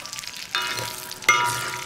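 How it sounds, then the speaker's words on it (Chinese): Chopped scallion greens, onion and scallion roots frying over low heat in plenty of oil in a wok, a steady soft sizzle with two sharper bursts of crackle, close and alone. "炸葱油这个过程呢，油要多一些"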